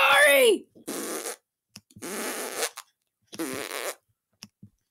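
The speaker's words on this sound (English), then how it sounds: "Sorry that I farted." Fart sound effects from the video game Hide the Fart, three loud, spluttering bursts in a row separated by short pauses, following a brief voice at the start.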